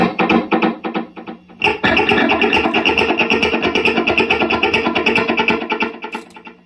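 A distorted electric guitar plays rhythmic strummed chords, with the repeating echoes of a delay set to 30% repeats and 50% mix filling the space between strokes.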